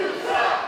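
Wrestling crowd at an independent last-man-standing match loudly jeering heel wrestler Irvin Legend, a sustained roar of many voices close and dense.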